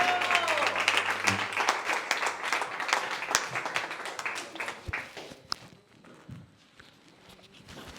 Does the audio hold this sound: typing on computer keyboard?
no